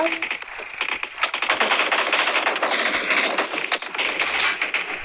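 Rapid video game gunfire rattles in quick bursts of sharp cracks, close and loud, with brief pauses between volleys.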